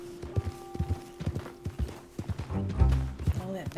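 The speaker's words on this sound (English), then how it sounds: "I don't know how women rode that way and stayed on the horses." Horse hooves clip-clop steadily in Red Dead Redemption 2 as a horse carries riders, the rhythmic thuds sitting close under a relaxed conversation between two people.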